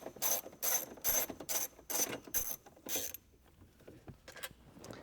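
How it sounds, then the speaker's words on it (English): A ratchet wrench loosening 10mm bolts behind the factory radio of a 2012-2014 Toyota Camry, with about seven close, rhythmic clicking bursts, then quieter fumbling. "We're going to remove both of these 10mm bolts as well."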